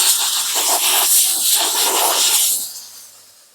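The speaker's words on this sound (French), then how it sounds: "Si tu as un doute, tu repasses un coup de vapeur sèche." A steam cleaner blasts dry steam while a car is prepared for a covering or PPF wrap, a loud, steady, close hiss that runs for a few seconds before tapering off and fading to a faint tail.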